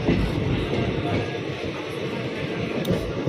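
A Lalgola passenger train rumbles steadily along the rails at night past Chakdah station, a continuous loud clatter and roar heard from inside the carriage.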